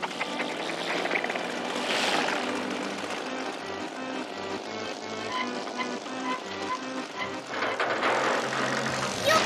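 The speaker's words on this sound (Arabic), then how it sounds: "نشغل المحرك." A propeller aircraft engine starting up and running in a Masha and the Bear cartoon, a steady buzzing drone with shifting pitch mixed with music, loud and continuous.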